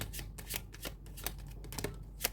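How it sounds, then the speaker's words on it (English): Tarot cards are shuffled by hand in a rapid run of crisp riffling and flicking sounds, repeated in quick irregular bursts up close, with no voices. "They tell me to keep shuffling."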